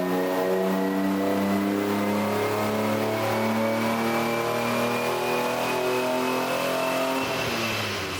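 A BMW E36 M3 engine converted to individual throttle bodies revs hard and steadily on a dyno, its pitch slowly climbing under sustained load, loud and close for several seconds.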